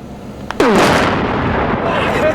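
Dozens of bags of high explosives detonate inside a drum, a sudden loud blast that roars on as a sustained rumbling wash, preceded by a faint click and voices.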